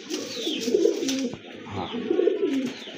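Two Lotan pigeons coo nearby in two rolling, throaty bursts separated by a short pause, with no voices over the calls.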